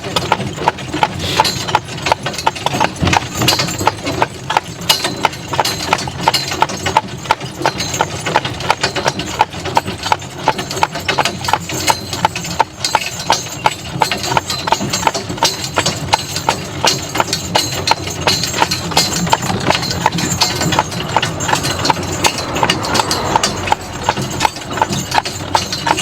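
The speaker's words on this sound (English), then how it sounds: "Baron is trotting a lot better going home" A horse named Baron trotting while pulling a buggy, a steady stream of close clip-clop hoofbeats with faint wheel and harness rattle throughout, no talk.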